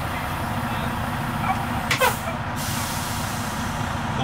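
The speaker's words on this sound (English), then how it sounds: "Pull out my trailer brake." A truck's trailer air brake is set during a pre-trip inspection, giving one short, sharp hiss of released air that cuts through a steady idling engine rumble, fairly close and brief.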